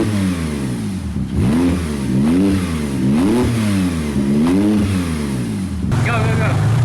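A Porsche engine with oil in its turbo is revved repeatedly, the pitch rising and falling in several loud, close surges, with a rattly edge and people talking over it near the end.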